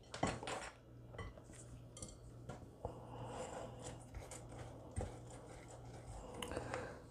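Pumpkin seeds tossed in flour in a bowl for banana bread, a soft continuous rustle with repeated clinks of a spoon against the bowl, close and quiet, with no talking.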